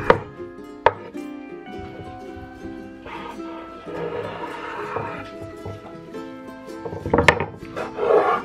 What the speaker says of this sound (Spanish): Ya terminé de cortar la carne